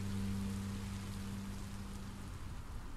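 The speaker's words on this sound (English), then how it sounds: "I didn't know it would rain." Rain falls in the video game Minecraft: Story Mode, a steady even hiss of drops with a low tonal hum underneath, no voices.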